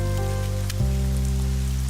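Steady rain falls throughout a Tamil TV serial scene, a dense continuous hiss with a low droning hum underneath and a brief shift partway through.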